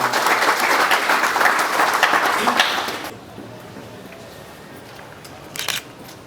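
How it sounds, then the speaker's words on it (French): Applause from the audience at a memorial academic morning honouring a late university rector, a lively burst of clapping that stops abruptly halfway through, followed by quiet room tone and a brief clatter. "Vos acclamations, s'il vous plaît, pour la deuxième fois."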